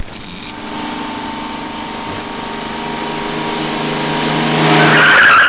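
A car braking hard and skidding to a sudden stop, its tires squealing in a loud, sustained screech that rises toward the end and then cuts off abruptly.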